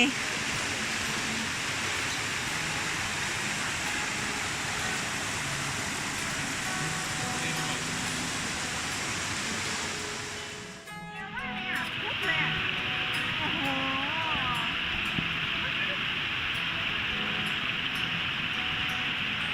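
Steady rushing water from a waterfall beside a trout pond, a broad continuous roar that briefly dips midway, with faint voices underneath.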